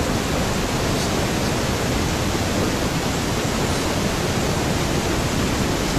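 Steady, loud test noise played through an EC300 return, a continuous even hiss with the top end rolled off, running unbroken throughout.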